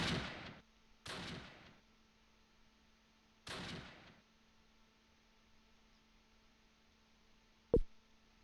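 Gunshots in the WWII strategy game Close Combat, Normandy fighting: three sharp distant reports spaced out over a low steady hum, followed by one brief closer crack near the end.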